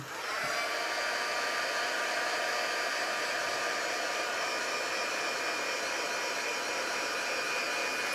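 A heat tool blows steadily and continuously while drying a handmade craft mini album made with Stamperia Alice papers, a loud constant whooshing hum that starts abruptly and runs alone without any talking.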